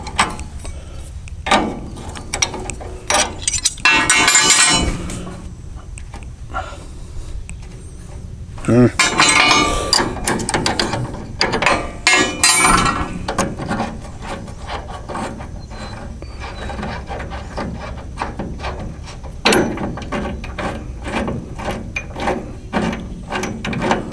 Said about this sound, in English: You will need 2 wrenches, whatever size this bolt may be.